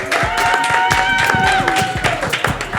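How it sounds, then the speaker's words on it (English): A live studio audience claps steadily and close by, a dense run of hand claps lasting a few seconds under a sustained tonal sound. "Clap it up for him"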